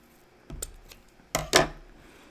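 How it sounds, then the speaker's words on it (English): Scissors cutting pipe cleaners in half at a holiday craft show, a few close, crisp snips with two sharper cuts near the end and no talk over them. "If you take your pipe cleaners and you cut them directly in half"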